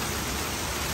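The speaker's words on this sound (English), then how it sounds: "Now look at a curtain of rain, a heavy rain, Telok Ayer Street." Heavy rain pours onto Telok Ayer Street in Singapore, a dense, loud and even hiss filling the whole moment with no voices.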